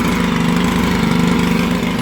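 A STIHL HL100 gas hedge trimmer's small two-stroke engine idles steadily up close, a loud, even putter with a fast regular pulse and no voices.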